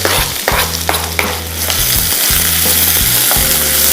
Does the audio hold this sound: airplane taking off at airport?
no